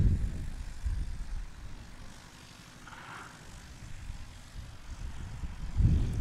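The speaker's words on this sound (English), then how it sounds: "Gary Varga goofing with his plane" Small airplane at a STOL practice competition in Hartford, Wisconsin, its propeller engine droning steadily at moderate distance, swelling louder at the start and end with no talk over it.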